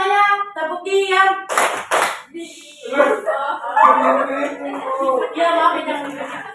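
Students in a classroom perform a quiet clapping routine, chanting together with a couple of sharp, close claps in the middle. Voices carry on throughout.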